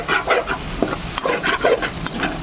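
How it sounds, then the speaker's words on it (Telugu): Brinjal and egg fry in a pan with a loud, close, continuous sizzle, broken by repeated scraping stirs and small crackling pops throughout. "ఇలా వంకాయ ఎగ్ ఫ్రై చేసుకోండి, చాలా బాగుంటుంది, సూపర్గా."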